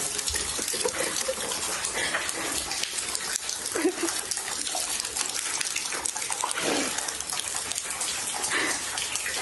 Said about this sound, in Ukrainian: Ця вода лється.